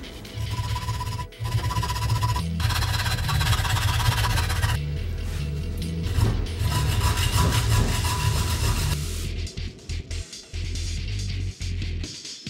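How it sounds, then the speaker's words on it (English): Continuous rasping hacksaw strokes cutting through small machine screws for a DIY fidget spinner, close and loud, with steady back-and-forth rhythm and brief pauses between passes. "Then I made my cuts with a hacksaw."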